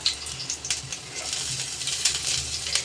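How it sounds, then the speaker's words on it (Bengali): Chopped garlic and thinly sliced ginger fry together in a pan, a soft, steady sizzle with light stirring scrapes that stays faint and close, with no voices. "দিয়ে এটাকে আমি ভেজে নেবো রসুন আর আদা একসাথে"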